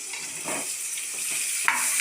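Onions frying in oil in a pan for a Tamil brinjal curry, with a steady sizzle and a few scraping stirs of a spoon against the pan.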